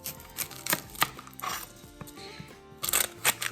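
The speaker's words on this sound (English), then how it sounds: "we're going to slice our onion" A knife slices a small onion on a cutting board, with a series of crisp, uneven chops and taps close by, pausing briefly in the middle before a quicker cluster of cuts at the end.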